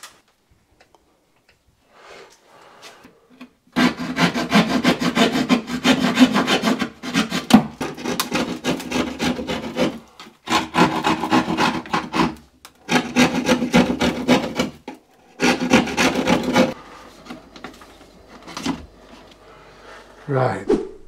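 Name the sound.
screw being driven into wood with a Phillips screwdriver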